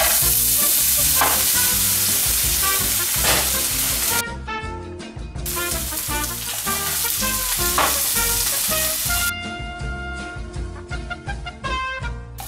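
Diced potatoes fry in a hot skillet over medium-high heat, giving a loud, steady sizzle with the occasional scrape and clatter of stirring and no talking.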